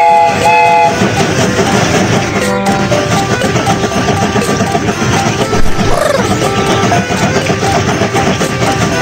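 Loud, steady rumble of a cartoon train departing in a children's video game, with rhythmic clatter and a brief whistle-like tone, continuous throughout with music-like layers.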